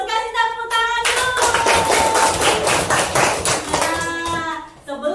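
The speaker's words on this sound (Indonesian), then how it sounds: "Kasih tepuk tangan dulu." Elementary school pupils in a classroom clap their hands together on a teacher's cue, a burst of rhythmic close claps between stretches of sung or chanted voices.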